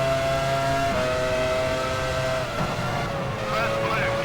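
Formula One race car engines from the F1 Challenge 99-02 racing game hold a high sustained whine that shifts pitch as they rev, loud and close with other cars droning behind.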